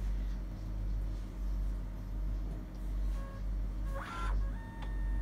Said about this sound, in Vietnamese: máy nó bắt đầu nó sẽ kêu, nó sẽ chạy, nó đang scan từ từ đó các bạn